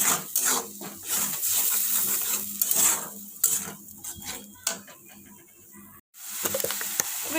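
Tomato puree sizzling in a pan while kadhai mushroom cooks, a steady close frying hiss broken by scraping stirs of a spoon against the pan, with a brief pause near the end.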